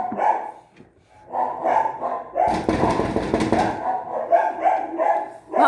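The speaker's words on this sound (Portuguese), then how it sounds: "Meu cachorrinho tá perturbando bastante hoje." A small pet dog barks repeatedly indoors, loud and close. The barks come in bursts across the clip, with a dense noisy patch in the middle, and there is no speech.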